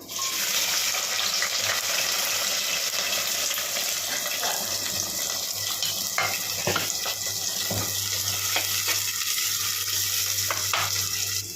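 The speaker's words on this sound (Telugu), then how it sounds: "ఇది గోల్డెన్ కలర్ వచ్చేదాకా మనం ఫ్రై చేసుకోవాలి." Onions and green chillies fry in a pan with a dense, watery hiss that runs continuously, plus a few scattered clicks and scrapes, close and fairly loud.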